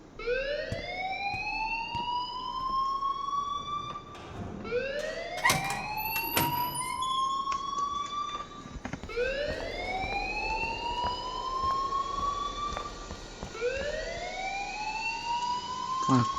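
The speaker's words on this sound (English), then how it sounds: "please turn off that alarm since that's your job" A rising, wailing electronic alarm in the Life is Strange video game, repeating in long upward sweeps about every four seconds, loud and alone with a few sharp clatters mixed in.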